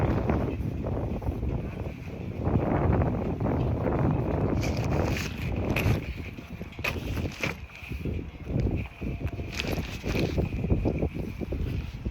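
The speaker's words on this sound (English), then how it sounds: "It's a bit windy here." Strong wind buffets the microphone in continuous rumbling gusts, with faint rustling underneath and no clear voices.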